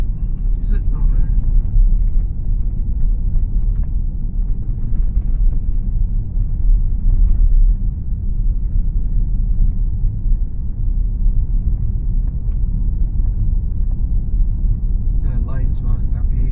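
A Tesla driving on self-driving mode on a dirt road near Sydney, Australia, giving a steady low tyre and road rumble throughout while someone talks over it.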